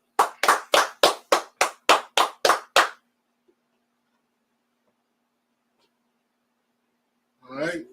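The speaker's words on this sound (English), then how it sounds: "Clap it up." About ten crisp, evenly spaced claps ring out close and loud at a live talk event, then stop abruptly, leaving near silence before a voice begins speaking.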